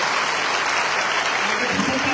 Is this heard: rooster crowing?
no